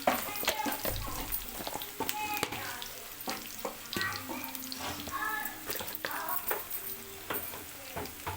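Onion frying in a pan with half a spoon of turmeric just added, a steady sizzle with bursts of stirring and scraping, close up, while someone speaks over it.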